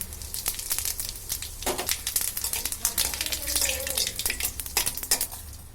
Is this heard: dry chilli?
yes